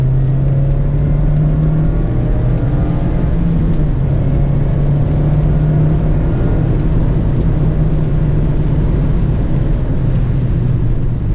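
A 2020 Mazda MX-5 Miata Club driven hard on a wet road in the rain, engine note rising and falling with tire hiss and spray, loud and continuous.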